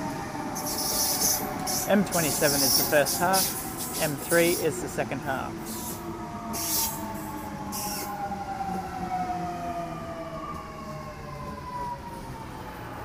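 A Sydney Trains M set electric passenger train arrives at Croydon station with a steady rising whine and rumbling wheels, while someone talks over it near the start.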